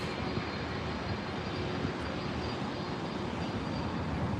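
Steady broadband roar of a Level Airlines airliner at Los Angeles International Airport (LAX), a continuous loud jet engine rush filling the whole stretch without talk.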